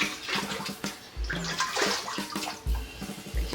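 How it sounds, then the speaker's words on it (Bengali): Water is scooped by hand out of a long-uncleaned rooftop water tank with sandy sediment, making close, irregular splashing and sloshing bursts with brief pours. "অনেকদিন পরিষ্কার করা হয়নি, আমি তুলে দিচ্ছি জলটা এরকম করে।"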